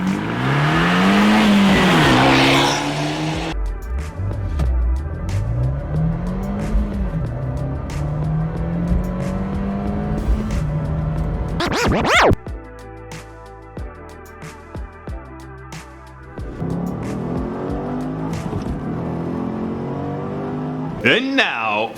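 A Fiat 124 Spider turbo sports car with a manual gearbox drives hard. Its engine climbs in pitch through several rising sweeps as it accelerates, with a gear change and a brief tire squeal, and talk and music sound in places.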